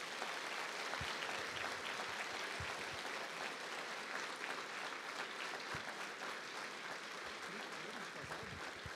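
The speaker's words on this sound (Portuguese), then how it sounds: "Eu gostaria que você recebesse o pastor Carlos Ribas com uma salva de palmas nessa manhã." A church congregation applauds in welcome of pastor Carlos Ribas during a morning service, a broad continuous roar of many hands that stays even and full throughout.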